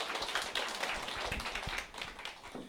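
Audience clapping at a Korean company sales event as a speaker is welcomed to the stage, a dense, fairly steady patter of many hands at moderate distance, with a few sharper claps near the front.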